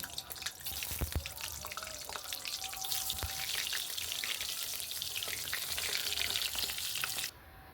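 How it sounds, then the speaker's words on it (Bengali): Brinjal (eggplant) slices frying in hot oil make a steady, close sizzle with crackling pops, and a few clicks early on before the sound stops abruptly near the end. "এবার ঝটপট করে বেগুনগুলো ভেজে নিই"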